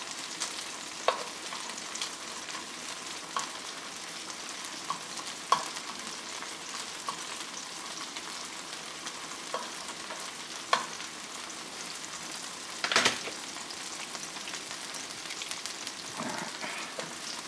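Shrimp fry in garlic butter in a pan, giving a steady close sizzle with occasional sharp pops and crackles and a scrape of stirring near the end.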